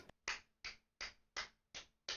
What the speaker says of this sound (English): That's golf clapping